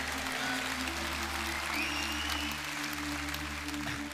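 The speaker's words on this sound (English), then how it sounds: "Yeah, you can clap for that as well." An audience claps steadily for a Reform UK Member of Parliament at a political event. The applause is sustained and fairly even, with a faint low hum underneath and no clear speech over it.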